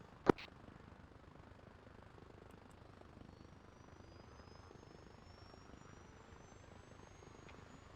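A helicopter engine in the video game Arma Reforger spools up: a faint, slowly rising turbine whine over a low steady rumble, opened by one sharp click.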